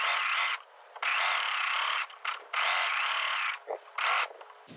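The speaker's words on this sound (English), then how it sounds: "The Serger is a sewing machine that you can sew with nothing under it" A serger sewing machine runs in steady bursts while sewing a seam with 3/8 inch allowance on a knit top, stopping and starting several times with brief pauses between fairly loud, close runs.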